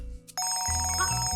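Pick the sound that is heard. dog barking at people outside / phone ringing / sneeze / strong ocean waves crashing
phone ringing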